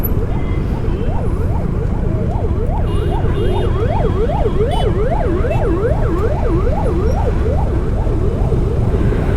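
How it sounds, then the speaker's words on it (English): A wailing ambulance siren sweeps rapidly up and down over steady road and engine noise, heard while riding a motorcycle, loud and continuous throughout. "Whenever I hear an ambulance, I generally try and go to a side"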